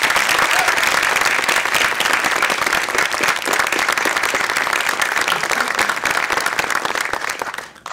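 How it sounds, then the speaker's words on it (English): Audience applause at a public health speaking event, a dense steady wash of many hands clapping loudly for the speakers, sustained for several seconds before tapering off abruptly at the end. "Let's give all of our speakers one big round of applause."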